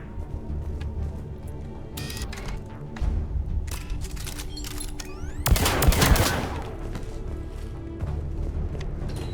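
Gunfire in the Mass Effect 3 video game, scattered sharp shots early, then a heavy burst of rapid automatic fire in the middle, with game ambience continuing around it.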